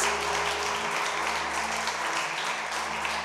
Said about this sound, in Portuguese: Vamos aplaudir o Senhor bem forte, em nome de Jesus.